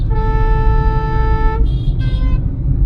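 A car horn blares in a long steady honk, then gives two shorter toots, loud and close over a low engine rumble, in busy city traffic.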